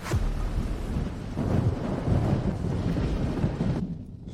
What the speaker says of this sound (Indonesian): Angin malam di laut lepas kencang